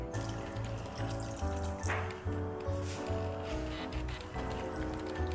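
Water poured into a cooking pot for chicken rice, a continuous splashing stream close by, with faint rhythmic thuds underneath.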